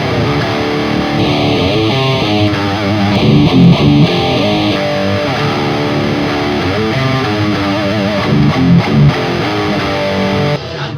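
Distorted electric guitar played through an amplifier and picked up by two microphones, loud and close with chugging riffs and sustained chords running continuously, no voices over it.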